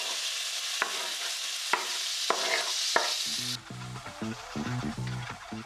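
Onions and chilies for a Pakistani-style chicken karahi frying in oil: a bright hiss broken by a few sharp stirring taps, then softer sizzling beneath a repeating tonal background sound, no speech.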